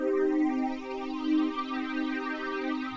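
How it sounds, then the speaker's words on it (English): Sustained synth string chord with a slow, sweeping phaser swirl moving through its upper tones, played alone without any voice. "what the phaser does is thicken up the texture"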